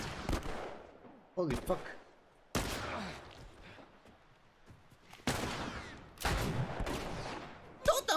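Gunfire in The Last of Us video game, several sharp bursts of shots scattered between quieter stretches, with someone talking and exclaiming over the game sounds.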